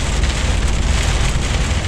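Rain mixed with hail pelts a truck driving through a sudden winter storm, making a loud, dense, unbroken drumming patter close around the cab.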